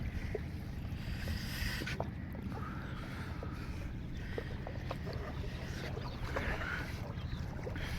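Steady engine drone and water rush from a sand-loaded cargo boat on a river near Kalurghat bridge in Chittagong, a constant low rumble running the whole time with no talk.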